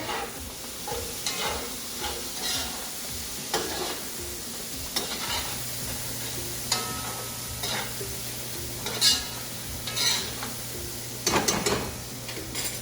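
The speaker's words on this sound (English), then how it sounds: "And I'm gonna stir that together." Vegetables seasoned with salt and pepper are stirred in a pan, steady frying sizzle under repeated scraping and clinking of the utensil, close-up with no talk.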